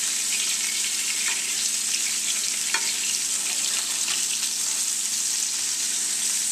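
A burger fries in a pan while hot fat is spooned over the top, a steady loud sizzle throughout with faint scraping of the spoon against the pan.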